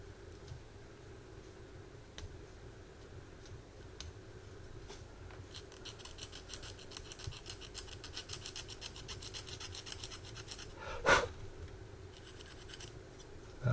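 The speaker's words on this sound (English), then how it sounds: "So let's see if I can scrape it off a little bit." Close, faint scraping of a blade over the plastic of a 1/72 scale Academy Spitfire model kit, shaving off a raised extrusion pin mark: a quiet rasp building in bursts through the middle and ending with one sharper scratch.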